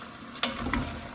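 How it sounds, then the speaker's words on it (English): A spoon stirs beef stew with potatoes in a pot, giving short scraping and sloshing strokes over a soft steady bubbling background, close and moderately quiet. "Stir this up a minute."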